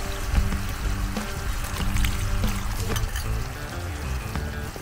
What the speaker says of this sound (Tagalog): Tsaka yung mixture ng harina at tsaka yung tubig.